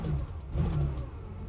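A Porsche 911 2.7 S engine hums and pulls steadily at low to mid revs, close by and fairly loud, swelling slightly in the middle of the short stretch as the car drives.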